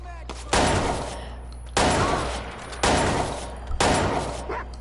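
Four loud, evenly spaced sniper rifle shots in Watch Dogs 2, each a sharp crack with a long decaying tail, roughly one second apart over a low steady hum.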